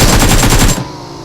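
A loud, fast burst of automatic gunfire in a shooting video game, rapid repeated shots for under a second that then cut off abruptly to near quiet.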